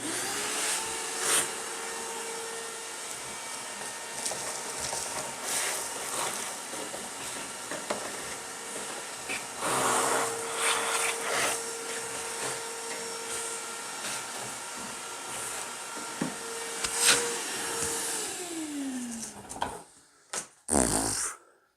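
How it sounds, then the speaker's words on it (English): A vacuum cleaner with a worn filter sucks a mouse nest out of a snow thrower, whining steadily in a long run that dips and rises as debris is drawn in, then cuts off into a few short bursts at the end. "I guess I need a new filter for my vacuum"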